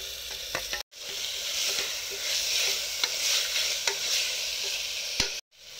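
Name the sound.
onions with ginger garlic paste frying and stirred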